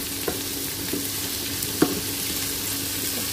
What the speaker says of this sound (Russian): Все, это я накрываю крышкой. И оно там у меня жарится.